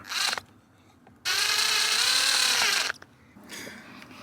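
A power drill drives bolts into a panel of a 2019 Toyota 4Runner during a trailer brake controller install, one short burst, then a long steady whine of about a second and a half, then another short burst, close up with no talking.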